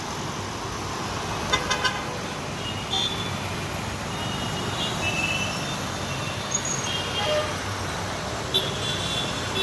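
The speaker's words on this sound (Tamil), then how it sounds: "ரொம்ப டிராஃபிக் அதிகமாக இருக்குது பாருங்களேன்" Heavy road traffic on Old Mahabalipuram Road in Chennai: a continuous roar of engines with scattered car horn toots and short beeps, some near and some farther off, and no one speaking over it.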